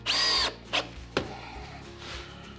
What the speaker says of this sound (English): I'm gonna go ahead and screw one right down there